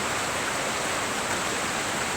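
Heavy rain pours down in a dense, steady hiss, loud and unbroken across the whole moment with no voices.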